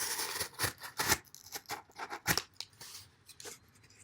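A homemade knife slicing through material in a cutting test, a series of close crisp rasping cuts and scrapes in uneven bursts, with no talk.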